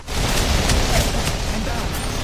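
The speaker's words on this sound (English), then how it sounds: "Firing stinger." Stinger weapon firing in the Holistic Hunt video game: a dense, sustained burst of gunfire-like blasts with sharp transients, loud and continuous over a game soundscape.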